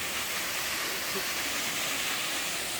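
Tanque Verde Falls in Arizona, heard near the water as a continuous broadband roar of falling water with no break for the whole stretch.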